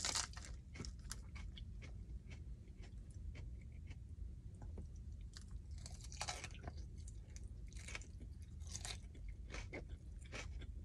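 Crunchy Greek salad being chewed close up, with a steady run of crisp bites and wet crunches repeating through the whole stretch, no talking.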